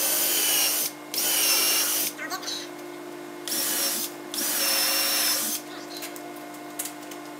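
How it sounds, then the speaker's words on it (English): A power drill boring pilot holes for screws in a wooden guitar body blank, with two long loud whirring runs separated by short pauses, then brief lighter bursts and softer trailing noise. "So couple pilot holes for our screws."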